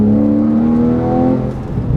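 A Porsche 911 manual naturally aspirated engine blips upward in pitch on a downshift with a strong harmonic whine, then drops back into a rough, lower idle as the gear changes; loud and close, in a canyon.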